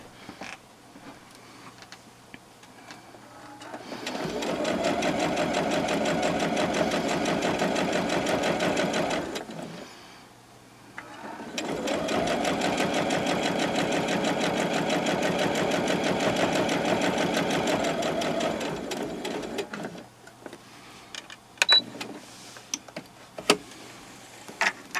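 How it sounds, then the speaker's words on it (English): A sewing machine stitching down single fold binding runs in two long steady whirring stretches separated by a short pause, close and even, with faint handling clicks afterward. "there's the top one over it, and just sew all the way down"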